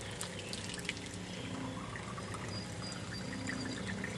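Purified water runs from the hose of a First Water Systems Responder S purification unit into a vessel, a steady continuous pour with faint trickling and dripping throughout and no talk.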